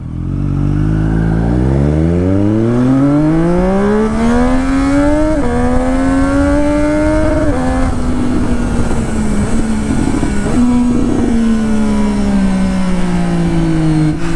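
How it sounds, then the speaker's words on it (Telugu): Triumph Street Triple motorcycle accelerating hard, its loud engine note climbing steeply through the revs, then shifting gear with sharp breaks in pitch and holding a steady high drone. "గేర్ షిఫ్ట్ చేసినప్పుడు ఓ సౌండ్ వస్తుంది బ్రాప్ అని."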